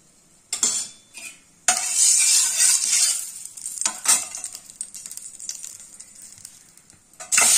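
Egg frying in a spoonful of oil with a little turmeric for a cauliflower egg curry: bursts of loud sizzle start and stop with brief pauses, then a long steady hiss fades under light clinks of stirring, flaring again at the end.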